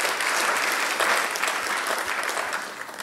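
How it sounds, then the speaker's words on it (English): Steady audience applause fills a conference hall at an accountants' annual general meeting, dense and continuous clapping from a large crowd that holds full strength for about three seconds before easing slightly at the end. "let's clap for CPA Obare Nyaega."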